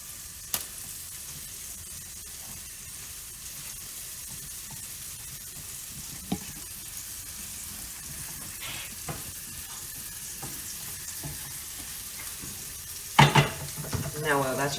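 Scrambled eggs and a sausage patty fry in a hot pan, a steady broadband sizzle running throughout with occasional small pops and a clatter of utensils near the end, no voice.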